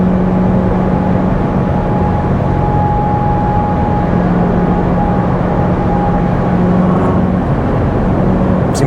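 A 2019 Corvette Z06 C7 with a manual gearbox cruises along, a loud, steady cabin drone of engine hum, road roar and wind noise holding constant throughout.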